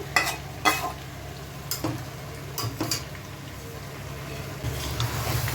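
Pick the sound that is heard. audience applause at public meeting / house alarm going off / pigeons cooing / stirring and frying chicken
stirring and frying chicken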